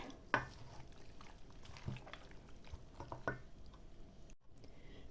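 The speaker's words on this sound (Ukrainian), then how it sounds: "Вимішуємо дуже добре." A thick, wet grated potato mixture is stirred with a few squelching strokes spaced a second or so apart, faint and close, with no talking.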